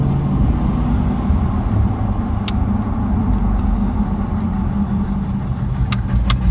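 A car engine runs roughly at idle, a loud, low, steady rumble close by, with a few brief clicks breaking through near the end and no one speaking.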